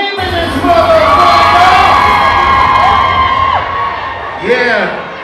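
A loud crowd screams and cheers continuously, high shrieks and whoops layered over a pounding low beat, with a few shouts near the end.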